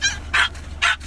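A dog barks three times in quick, evenly spaced bursts, loud and close, with a low steady hum underneath.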